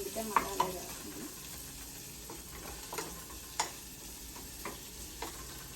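Onions frying in a pan give a steady low sizzle with occasional sharp ticks and stirring knocks, fairly faint and close, with no talking.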